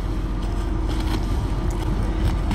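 Small narrow fishing boat on the water in Malaysia, a steady rumbling wash of water and wind noise, close and fairly loud, with no speech.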